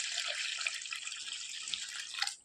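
Water is poured onto washed urad dal to soak it, a brief continuous splashing pour lasting a couple of seconds, close and fairly soft.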